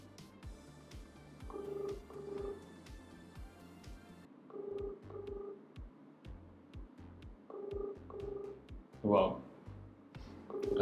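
An outgoing phone call gives repeated double ring-back tones in a steady rhythm, fairly quiet and close, with faint talk at the start.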